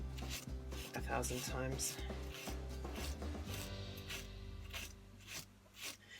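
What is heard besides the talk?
sanding a Norse knife blade with sandpaper and paste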